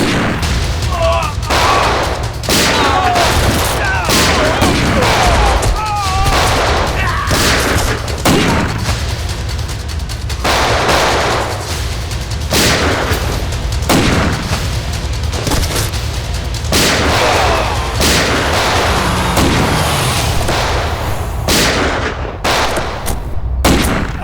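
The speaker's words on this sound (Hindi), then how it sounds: "तो गोलियां चल रही हैं।" Repeated sharp gunshots crack out in irregular bursts, some in quick succession, loud and close, with a brief voice between volleys.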